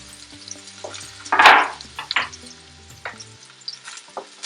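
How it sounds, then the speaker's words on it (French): Chopped onions tipped into about a tablespoon of hot oil in a pan for a meal omelette, a loud sudden sizzle that flares up and then settles into a steady, softer frying crackle. "Donc je verse mes oignons."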